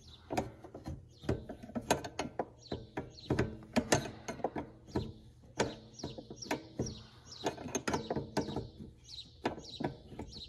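Metallic clicking and ratcheting from a wrench tightening a 3/4 A/C fitting on a John Deere 4840 tractor, quick irregular clicks close up, with a few faint chirps in the background and no talking.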